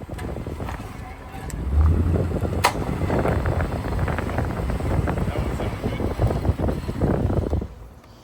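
A failing wheel bearing on a 2008 Trailblazer SS, heard while driving, makes a loud, steady low rumbling drone that runs through the whole stretch without letup.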